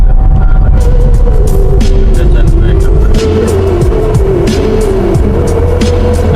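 A car drives slowly along a rough road where construction work is underway, its engine a steady loud rumble with scattered clunks and rattles from the uneven surface, and voices talking nearby throughout.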